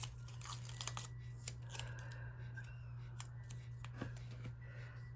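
Scissors trim a stitchable Christmas card, giving a few quiet, separate snips and paper rustles over a low steady hum, with no voices.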